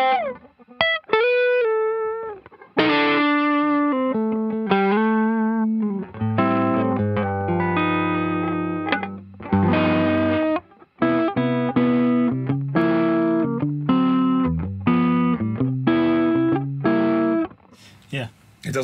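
An electric guitar runs through a Klon KTR pedal into a cranked amp, giving driven gain on single-note lines, then on ringing chords and riffs that sustain loudly with short pauses between phrases.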